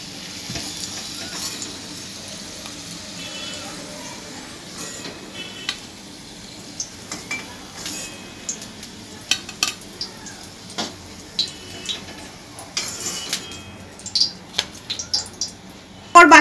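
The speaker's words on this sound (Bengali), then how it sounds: "একই ভাবে ভেজে নিচ্ছি" Egg-shaped snack pieces fry in oil with a soft, low sizzle under sharp, irregular clinks and scrapes of a metal utensil against the pan that grow more frequent toward the end.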